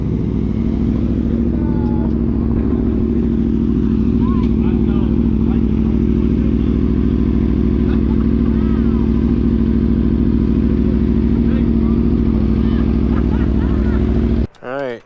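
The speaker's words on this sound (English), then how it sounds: "Oh, we got the Aprilia pulling up." Aprilia motorcycle pulling up at an outdoor bike night in cold weather, a loud, close engine rumble held steady for most of the stretch, with clattering and faint sounds around it.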